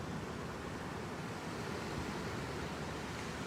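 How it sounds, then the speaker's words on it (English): Ocean waves wash in a continuous broad roar of surf, steady and fairly loud, with no voices over it. "Use the sound of the waves to bring you into it."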